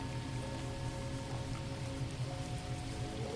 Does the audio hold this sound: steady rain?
yes